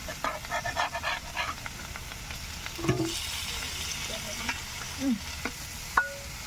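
Shol fish sizzles in a frying pan while being turned over, a close hiss broken by scraping spatula strokes and a few sharp clatters.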